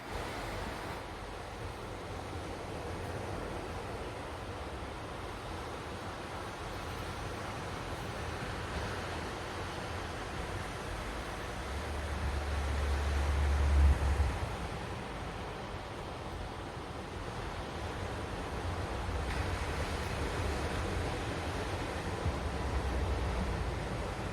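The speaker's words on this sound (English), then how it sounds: "I'm gonna sit next to the beach and listen to the waves" Steady rolling surf washing onto a beach, a continuous wash of waves with a slightly louder swell midway, mixed with light wind and no voices.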